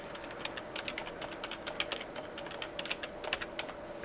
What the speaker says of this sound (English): so I'll just type it into the link.